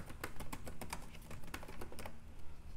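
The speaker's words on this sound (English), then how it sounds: "I can hit T on my keyboard, pull up a text box real easy, and maybe I go ahead and put American grown" Rapid, steady clicking of keys as text is typed on a computer keyboard, close and fairly quiet, continuing without pause.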